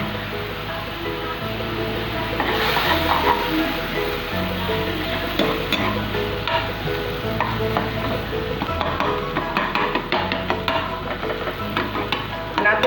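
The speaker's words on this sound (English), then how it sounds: "And then again mix it and let the milk get absorbed with the egg" Egg bhurjee cooked with milk is stirred in a frying pan, with a continuous soft sizzle and scraping stir strokes that grow busier toward the end.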